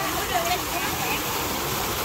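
A waterfall on Phu Quoc island in Vietnam roars as a steady broadband wash of falling water, with faint voices of visitors nearby.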